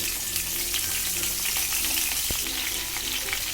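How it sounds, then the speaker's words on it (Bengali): Cauliflower florets sizzle in hot oil in a home kitchen pan, a dense, steady frying crackle with a brief sharp clink of a utensil midway and no voices. "এবার এতে আমি দেব ফুলকপি ফুলকপিগুলো আমি ভালো করে ভেজে নেব"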